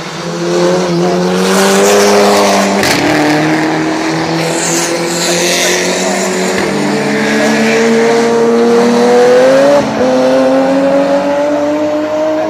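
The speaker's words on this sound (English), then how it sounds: "the red Seat we see up here at Lodge, and then the little Caterham coming through the right-hander" A red Seat and a small Caterham race past at Oulton Park, engines loud and close, with rising revs, gear changes and a brief tire squeal as the cars sweep by.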